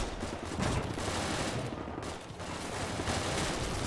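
Hull machine gun on a tank fires steadily in a Desert Storm campaign mod of a first-person tank warfare game, dense and continuous, with a brief lull near the middle.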